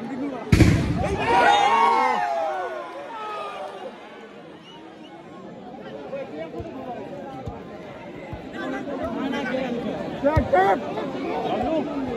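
Firecrackers set off after a goal at a Dholai football final: one sharp, loud bang near the start, then a steady crowd murmur and talking voices, with a few faint pops later on.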